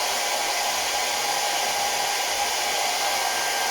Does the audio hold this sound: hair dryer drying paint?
yes